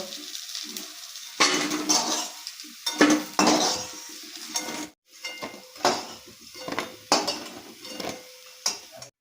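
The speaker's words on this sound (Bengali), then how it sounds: "তো বড়াগুলো আমার ভাজা হয়ে গেছে। এবার আমি বড়াগুলোকে তুলে নেব।" Fried lentil fritters are lifted from hot oil in a wok, with repeated metal utensil scrapes and clinks against the pan, soft sizzling between the knocks, close and fairly loud in short bursts.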